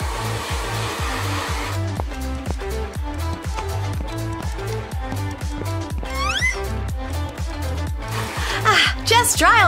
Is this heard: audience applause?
no